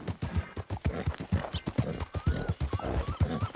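Horse hooves clip-clopping in the video game Red Dead Redemption 2, a quick, steady run of close hoof thuds with an occasional faint snort or whinny over a light ambient bed.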